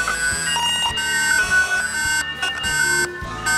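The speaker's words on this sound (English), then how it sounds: "indoor unit and outdoor unit will all give out a pressing alarm, making it safer and more reassuring." A wireless doorbell intercom's tamper alarm sounds from the indoor and outdoor units, a loud, continuous electronic wail of steady tones, repeating and warbling against busy background sound.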